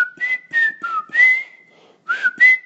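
A person whistles in imitation of a repetitive, non-musical whistling heard from an aisle over, with clear up-and-down phrases repeated in short bursts and a brief pause before the last two.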